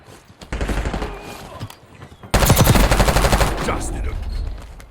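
Automatic rifle fire in Warzone 2.0, including the Prime TAQ 56, rattling out in rapid bursts: a shorter volley, then a louder sustained string of close shots that tapers off, with no talking.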